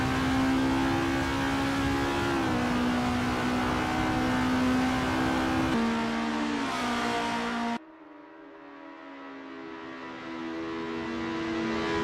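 Formula race cars in Assetto Corsa run three in close formation on a circuit, slipstreaming. Their engines give a loud, continuous high whine that shifts pitch with gear changes, then drops to a quieter, rising drone.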